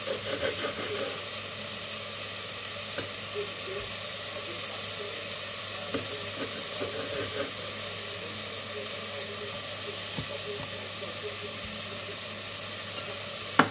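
Vegetables sizzle steadily in a hot pan with seasoned spice, a constant close frying hiss with occasional stirring clicks and scrapes.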